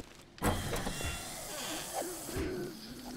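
A door opening in the zombie survival game 7 Days to Die: a sharp bump followed by a sustained mechanical whirring slide lasting a few seconds, close and moderately quiet, with no talking.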